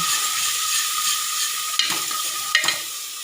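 Onion and tomato fry for pea rice, a loud steady sizzle close up with two sharp metallic stirring scrapes in the later half, no speech.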